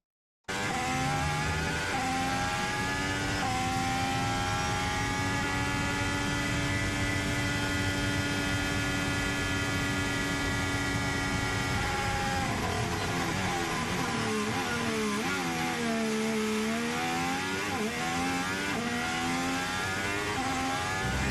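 A 2026 Formula 1 car runs down the pit straight at Bahrain testing, its engine note holding steady then dipping as energy clipping sets in, a lift and coast and an extra downshift bringing sweeping pitch drops, loud and continuous with no talk.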